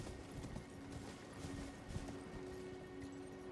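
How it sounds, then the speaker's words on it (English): Horse hooves clip-clop steadily in a video game, a running gallop-like rhythm under a dense layer of game sound and music, fairly loud throughout. "Yeah, a horsey."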